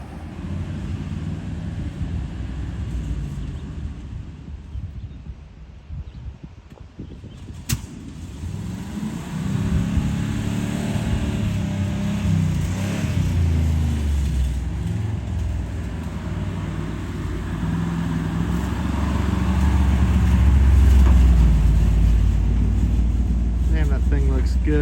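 A 1970 Chevy K10 truck drives for the first time after sitting parked for 30 years, its engine rumbling steadily and swelling louder toward the end, with people talking over it.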